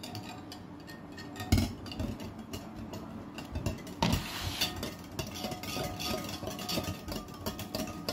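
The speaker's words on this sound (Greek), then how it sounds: "Να ανακατεύω πολύ καλά, πάρα πολύ καλά ανακατεύω." Spoon stirring a jelly and cream mixture in a bowl, a busy run of soft scraping and clinking with two sharper knocks against the bowl, steady and close.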